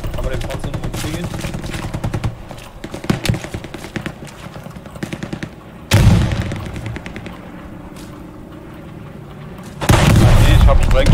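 Gunfire in the World War II shooter Hell Let Loose, loud rapid automatic bursts and heavy booms in dense succession, with short pauses and voices talking over the battle.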